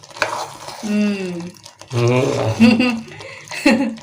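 Green chillies fry and get stirred in a pan, a soft sizzle and scraping under a woman's close, clear speech.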